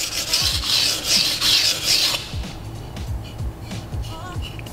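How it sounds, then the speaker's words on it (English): A Nishida Kurouchi petty knife is sharpened on a stone to raise a burr, giving repeated close, gritty rasping strokes in a steady rhythm, louder in the first half then lighter. "this sharpening now should take like no time at all"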